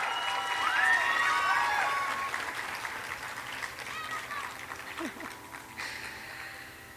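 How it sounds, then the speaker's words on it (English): An audience claps for two young dancers after a Bharatanatyam arangetram, with sustained applause and a few light cheers that swell early and then slowly fade, with some voices mixed in. "Can I please have another round of applause for our girls tonight?"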